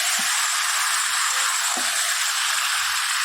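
Potatoes frying with spices in a pan, a steady broadband sizzle and hiss throughout at a constant level, with a couple of faint soft knocks from stirring.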